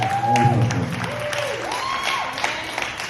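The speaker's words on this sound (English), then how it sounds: "applause." An audience at a poetry slam applauds and whoops in a steady, full burst, with a few voices rising through the clapping before it thins slightly toward the end.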